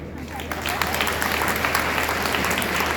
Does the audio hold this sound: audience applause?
yes